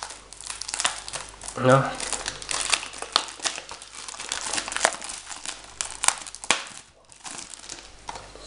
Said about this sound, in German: So, da habe ich die Folie entfernt.